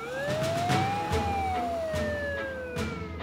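An emergency vehicle siren in the Swedish animated series Vännernas Stad as the rescue team heads out on a call, wailing continuously up and down, loud and close over a rumbling engine.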